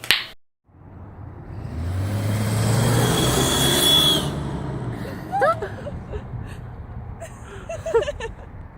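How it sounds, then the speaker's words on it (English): A cheap turbo whistle fitted in a car's exhaust, bought on Amazon, gives a rising engine rush topped by a thin whistle that climbs, then fades, followed by scattered small clicks and chirps. "David got a turbo whistle for his car,"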